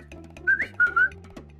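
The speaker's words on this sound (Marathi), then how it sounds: "आणि मग हळूच शिट्टी वाजते" A soft whistling wheeze from the chest while breathing after climbing down stairs: a few short high rising whistle tones over a quiet, breathy background, close and brief.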